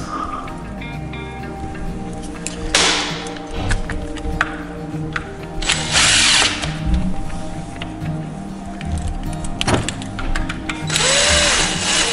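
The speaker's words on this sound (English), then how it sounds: "don't over tighten those with the drill" Power drill driving screws into a Traxxas Velineon 3500 RC motor during a rebuild, several short bursts of whirring with clicks and taps between, close and fairly loud.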